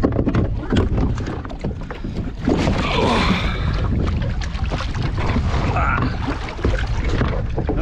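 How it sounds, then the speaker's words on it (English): Water splashing and sloshing around a kayak during a re-entry at sea off a beach, with steady wind buffeting the microphone throughout and a burst of heavier splashing midway. "let's try a little bit of kayak re-entry"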